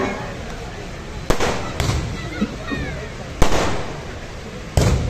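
Fireworks crack and burst outside an outdoor AIMIM political ward meeting, four sharp loud bangs spaced a second or two apart over a constant crowd murmur and background hubbub.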